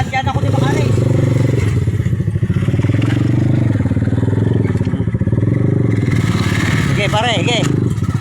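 A motorcycle ridden over a rough, bumpy road on the way to go fishing, its engine droning loudly and steadily close by with rattling and jolts from the uneven ground, while people talk over it.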